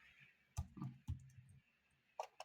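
A handful of quiet clicks from typing on a computer keyboard, close but faint, spaced out irregularly over a low background hum.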